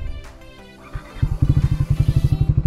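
A motorcycle engine coughs, catches, then settles into a loud, close, rhythmic idle thump with a steady pulsing beat.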